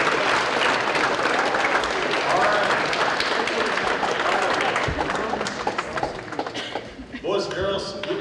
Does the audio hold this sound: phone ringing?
no